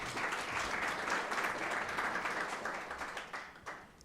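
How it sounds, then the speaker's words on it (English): A seminar audience claps in sustained applause, a dense even patter of many hands that gradually thins and fades toward the end, with a few louder individual claps. "Can you please give him a round of applause?"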